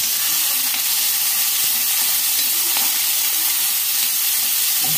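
Tomatoes hit a hot kadhai with cumin and onion, giving a loud, continuous hissing sizzle with crackling spatter that holds steady throughout.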